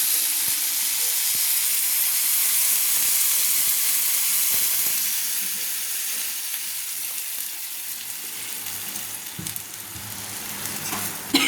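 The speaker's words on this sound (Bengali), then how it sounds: "আলু সোয়াবিন আমার কষানো হয়ে গেছে এতে আমি প্রয়োজন মতো জল দিয়ে দিচ্ছি" Water is poured into a pan of browned potato and soybean curry, a vegetarian dish cooked without onion, raising a steady, loud hiss and sizzle that slowly eases over several seconds.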